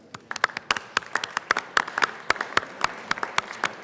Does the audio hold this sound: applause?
yes